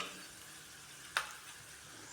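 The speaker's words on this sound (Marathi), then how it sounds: "हिंग टाकून पण व्यवस्थित असं परतून घ्यायचं" A pinch of asafoetida and tempering frying in ghee gives a faint, steady sizzle, broken by two sharp clicks of a spoon against the pan.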